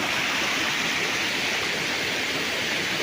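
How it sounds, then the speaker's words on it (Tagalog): Steady, loud rush of a river flowing close by in Siniloan, Laguna, fills the whole stretch, a constant broadband roar, with no voices. "Bali tatawid tayo ng ilog mga kaprops. Ayan o, ilog."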